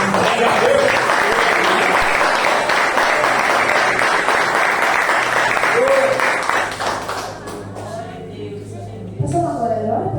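A church congregation applauding during an evening worship service, loud dense clapping filling the room for several seconds before fading, with voices and a brief speaking voice audible as it dies down.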